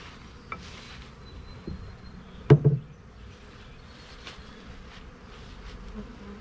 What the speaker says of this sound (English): So this hive must have a lot more bees